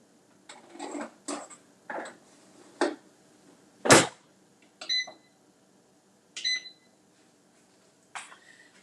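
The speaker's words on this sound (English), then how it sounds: "I just pressed the beef setting on the air fryer" An air fryer beeping as the beef setting is pressed in a home kitchen, a series of short, sharp electronic beeps spaced about a second apart, close and distinct against near-silence, with a louder clatter partway through.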